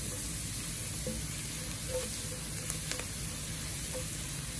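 Garlic browning in oil in a pan for chicken sinigang gives a faint, steady hissing sizzle, with a few tiny clicks of a utensil.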